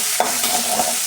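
Chopped onions hit hot oil with toasted cumin in a pan, producing a brief close hiss with a single stir scrape near the start, lasting about a second.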